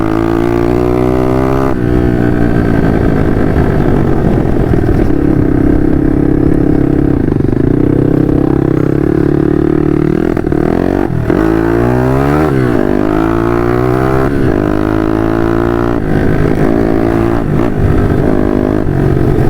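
A KTM 150 RXF enduro motorcycle engine runs steadily and loudly for the whole stretch, its pitch rising and falling with bursts of revving.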